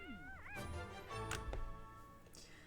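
A cat at a veterinary clinic in The Sims video game gives one clear rising-and-falling meow, close and fairly quiet, followed by soft game thuds and taps.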